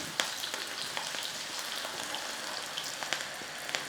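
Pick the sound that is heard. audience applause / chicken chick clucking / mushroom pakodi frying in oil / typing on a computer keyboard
mushroom pakodi frying in oil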